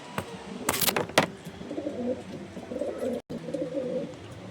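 Racing pigeons coo at a loft in a steady low murmur, with a few sharp knocks and rustles early on and a brief cutout near the end.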